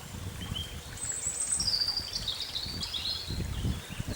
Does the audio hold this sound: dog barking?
no